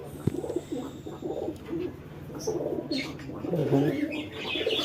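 Pigeons coo in a loft of kept birds, with repeated low rumbling coos layered throughout, some nearby and some further off, alongside faint chirps and a brief wing flutter.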